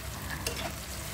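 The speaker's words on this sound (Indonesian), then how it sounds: "Aduk sampai mendidih." A spoon stirs a pot of spiced fish broth seasoned with powdered stock, pepper, salt and a little sugar, giving soft, faint scraping and sizzling-like bubbling with no talk.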